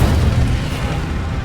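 An Incendio fire spell is cast in Hogwarts Legacy, a brief, loud, low whooshing burst of flame that rumbles and fades over a moment, with no voice.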